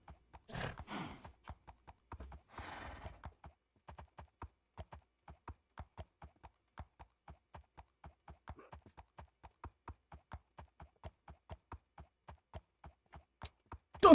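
A donkey's hooves in a Minecraft-style survival game clop along in a steady, evenly spaced walking rhythm, clean and quiet, with a couple of brief louder bursts near the start.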